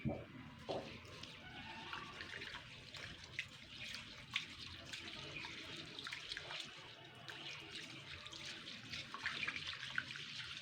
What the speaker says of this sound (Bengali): দুই তিনবার ডালটাকে ধুয়ে নিয়ে ভিজিয়ে রাখতে হবে